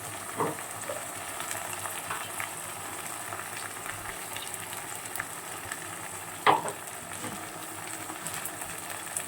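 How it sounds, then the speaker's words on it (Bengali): Onion, tomato and ginger-garlic paste fry in a pan for a Bengali potato dum, giving a steady low sizzle throughout with a single sharp clink of a utensil partway through. "এই মশলাটা খুব ভালো করে কষিয়ে নেব"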